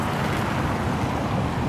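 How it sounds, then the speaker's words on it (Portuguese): A Rio Doce company bus sits at the Governador Valadares road station in Minas Gerais, its engine giving a steady, loud rumble mixed with broadband road noise and no talk. "Olha o carro da Rio Doce aí,"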